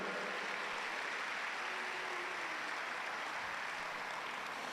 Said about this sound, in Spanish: Dale un aplauso fuerte a Jesús si usted lo cree.